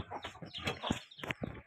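A hen squawks and clucks in a series of short, sharp, agitated calls close by, as if being chased or attacked by another bird, with no talking.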